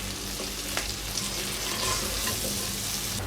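Lasoora gum berries fry in three to four spoons of oil for a traditional pickle, giving a soft, steady sizzle with light crackles and the occasional stir, unbroken and free of speech.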